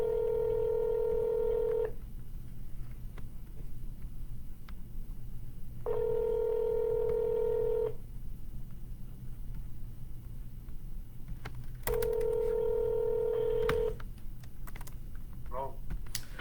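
A telephone rings out three times for a cold call: long, steady ringback tones of about two seconds each, evenly spaced by four-second gaps, over a low constant hum, with a few faint clicks between.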